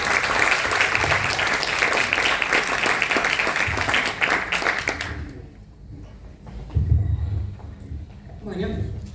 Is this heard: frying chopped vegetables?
no